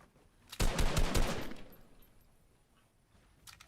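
A rapid burst of automatic gunfire in a shooter video game, loud and close, lasting about a second before trailing off, then a short faint burst near the end; nobody speaks.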